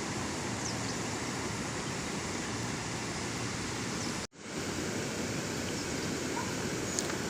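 Floodwater rushes over a road beside a swollen stream after heavy monsoon rain in Konkan, a dense, even roar that continues unbroken apart from one momentary dropout.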